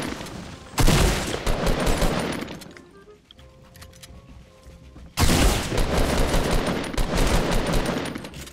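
Dense gunfire in the Fortnite battle royale game: two long loud bursts of rapid automatic fire, split by a quieter stretch with faint tones and scattered shots.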